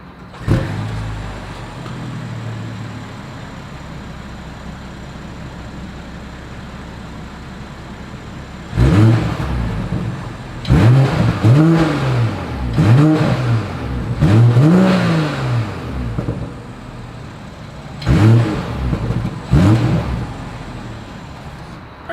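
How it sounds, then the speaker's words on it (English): A 2021 BMW X5 xDrive40i SUV idling with a low, steady exhaust hum, then several sharp throttle blips that rise and fall in separate bursts, loud and close. "As always, here is that exhaust clip."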